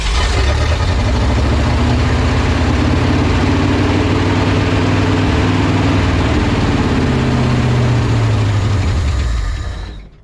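A 1970 Ford F250 engine cranks loudly and steadily, the starter churning continuously for about ten seconds with a rough, droning roar before cutting off.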